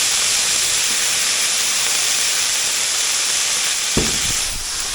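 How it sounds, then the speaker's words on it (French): Onions frying in a pan hiss and sizzle steadily and loudly, then a burst of sharper steam and crackle rises near the end as vinegar hits the hot pan to deglaze. "Je déglace ça avec un petit peu de vinaigre"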